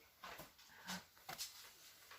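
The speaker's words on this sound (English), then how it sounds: "This puppy's playing." A playful puppy whimpers and yips faintly in a few short bursts, soft and close with quiet gaps between.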